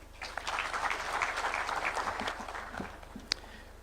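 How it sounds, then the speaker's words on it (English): Audience clapping during a Kenyan constitutional address: a short burst of steady, moderately loud applause from a crowd that trails off with a few scattered final claps. "Please, let's clap for that."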